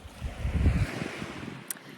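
Ocean waves wash on a shingle beach, a soft rushing swell with wind noise on the microphone. The sound rises briefly, then settles, with no voices.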